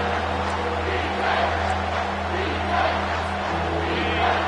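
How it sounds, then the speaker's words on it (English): A college football stadium crowd at a Minnesota Gophers versus UCLA game roars for the defense on third down, a steady, broad wash of noise that swells in waves. "Decibels rising as the crowd gets behind this defense on 3rd down."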